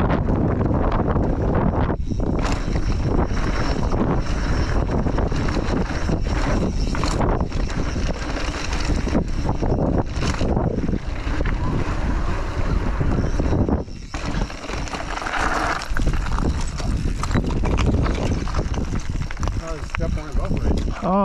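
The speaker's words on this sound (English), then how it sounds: "Windy." Strong wind gusting across a mountain bike trail near St. George, Utah, loud buffeting roar on the microphone that rises and dips over twenty seconds.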